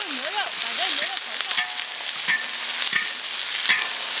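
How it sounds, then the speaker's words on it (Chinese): Beef stir-fried in rapeseed oil with ginger and scallion gives a steady, close sizzle, with occasional scrapes and clinks of stirring and a brief warbling tone near the start. "炒一下，把牛肉的那个油炒一点出来啊，让它更加香。"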